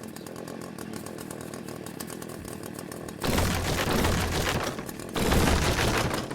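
A chainsaw in the first-person incremental video game Berry Bury Berry buzzes continuously, then grows louder and harsher in two surging cutting bursts.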